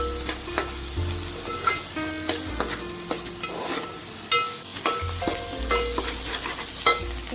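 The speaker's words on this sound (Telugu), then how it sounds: "చామగడ్డలు చిన్నగా కొట్టుకున్నవి దీంట్లో వేసుకొని బాగా వేగనివ్వాలి" Finely chopped, pre-boiled taro root (arbi) fries in a pan over a low flame, giving a steady close sizzle broken by the sharp clicks and scrapes of stirring.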